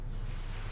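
A naval gun salvo in the WW2 strategy video game Victory At Sea Pacific, heard as a brief, dense, booming low rumble that fills the whole moment without any talk.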